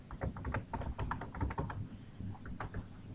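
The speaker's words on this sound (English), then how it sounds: "Type in the username" Keys clack in quick, uneven bursts on a computer keyboard while a username is typed into a website login page, close and moderately loud, with no voices.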